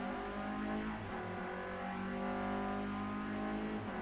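Clio Cup race cars on outlaps at Silverstone in a racing video game, their engines droning steadily at moderate volume with a few revs rising and falling as the cars pass, and no voices.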